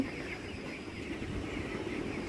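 Chickens cluck softly in a steady low murmur, close by, with no talking over them.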